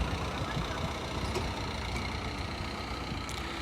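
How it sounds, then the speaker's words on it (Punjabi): A tractor engine rumbles steadily at moderate distance while straining in mud, a low continuous drone without clear surges, no talking. "ਟਰੈਕਟਰ ਜ਼ੋਰ ਤਾਂ ਬੋਲ ਆਇਆ ਪਰ ਆਇਆ ਨਹੀਂ ਲੋਟ"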